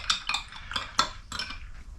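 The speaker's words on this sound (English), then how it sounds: "Give that a good little stir" A spoon stirs homemade elderberry syrup with honey, tapping and scraping a container in quick, evenly spaced clinks, close but fairly soft, with no voices.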